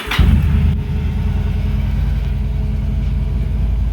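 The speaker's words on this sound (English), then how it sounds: "start the bike, let it run for a minute" A motorcycle engine starts with a short burst and then settles into a steady, close, rumbling idle while fresh oil warms up, and nobody speaks.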